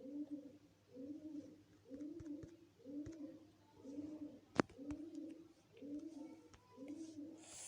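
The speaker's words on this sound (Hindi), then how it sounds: "ये हमारे घर की छत पे कबूतरों ने अपना घोंसला बनाया हुआ है, ये शायद उनकी आवाज़ आ रही है अभी।" Pigeons nesting on a house roof coo in a slow, regular series of about eight soft, rounded calls. A sharp click cuts in midway, and a quiet hum runs underneath.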